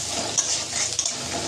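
Fried onions sprinkled with salt and turmeric are stirred in a hot pan: a short burst of close sizzling with a couple of quick scraping strokes.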